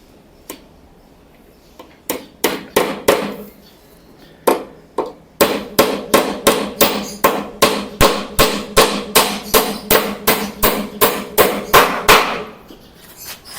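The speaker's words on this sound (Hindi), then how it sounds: "अब दूसरी कील मैं यहाँ से ठोकूंगा" A hammer drives a nail into wood while a low-cost wooden table is being built, with a few scattered taps and then a long run of steady, sharp, close blows.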